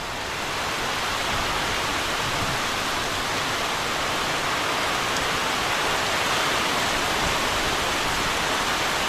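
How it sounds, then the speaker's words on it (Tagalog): Heavy rain from Typhoon Pepito sounds as a thick, unbroken roar of broadband hiss that swells slightly at the start and then holds loud and even, with no voices. "Ayan, umuulan na."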